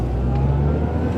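A supercharged R53 MINI Cooper S engine revving steadily with a deep, continuous drone and a faint supercharger whine layered on top, loud and close.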